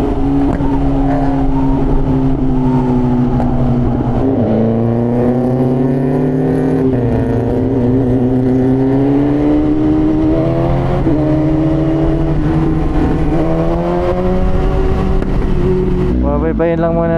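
A BMW S1000RR sport motorcycle fitted with an SC Project exhaust revs loudly and close up, its engine note climbing and dipping repeatedly over a steady idle, with a sharp burst near the end.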